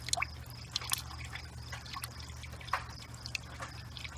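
An aquaponics U-siphon sucks in air and drains water from a grow bed, giving scattered gurgles and drips over a low steady pump hum, close and fairly quiet.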